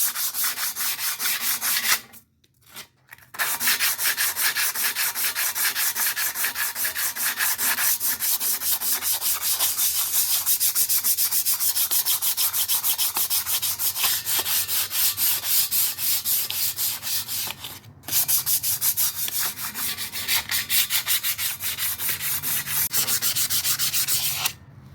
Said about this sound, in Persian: حالا باید بریم برای سنباده کاری.